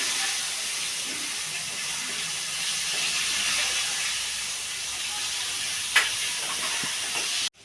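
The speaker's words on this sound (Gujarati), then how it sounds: "હવે આપણે એનો વઘાર દેવાનો છે." Cumin seeds and asafoetida hit hot oil for a tempering, giving a steady, close hiss that sizzles throughout, with a brief sharp crackle near the end.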